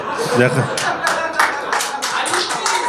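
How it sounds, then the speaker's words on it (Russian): A live podcast audience claps in a steady burst of sharp, overlapping hand claps that fill the room, while someone speaks over the applause. "Не надо хлопать, не надо."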